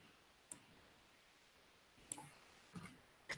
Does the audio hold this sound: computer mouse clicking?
yes